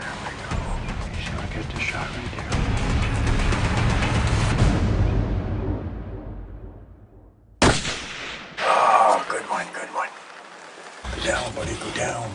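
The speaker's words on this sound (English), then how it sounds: "Jim's using that Model 7 to 300 short mag" A Remington Model 7 rifle in .300 Short Mag fires during a Texas deer hunt, giving a single sharp, loud shot that echoes and fades, followed by another abrupt burst of outdoor noise.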